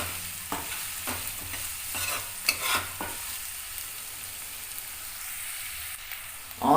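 Onions being fried and stirred over a low flame for a Sankara fish gravy, with a steady soft sizzle and several clear spoon scrapes against the pan, then a louder clatter at the very end.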